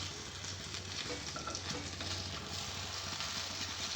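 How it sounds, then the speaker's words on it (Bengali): Eggplant slices frying in hot oil in a pan, giving a steady, close crackling sizzle with a low background hum throughout and no voices. "বেগুন ভাজতে বেশি সময় লাগে না"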